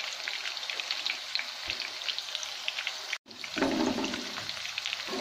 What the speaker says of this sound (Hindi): अभी मैं इसे फ्राई करते हैं 2 से 3 मिनट तक, आप इसको हल्की आंच पे पकाएं एक साइड से।